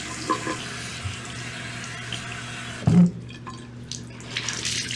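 Tap water runs steadily into a sink as a face is rinsed off, a close, continuous hiss with a few splashes and a brief clunk partway through.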